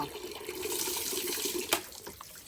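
Steady rushing water pours continuously over a dog being bathed, close and fairly loud, with a brief splash near the end.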